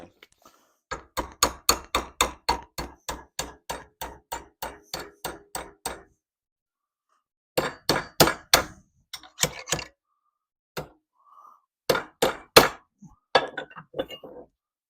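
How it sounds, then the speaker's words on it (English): Sharp metallic hammer blows bending a metal bracket to 90 degrees in a vise ring out in a rapid steady series, then pause and resume in short bursts, close and loud with a clanging edge. "I need 90-degree bends on these, so I use a hammer and my vise"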